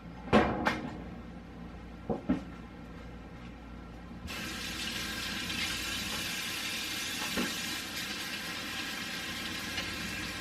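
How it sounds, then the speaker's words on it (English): Tap water runs steadily at a kitchen sink during handwashing, a continuous broadband rush that starts abruptly after a few cupboard-like knocks and clatters, then holds close and even with occasional splashes. "now I'm going to go wash my hands"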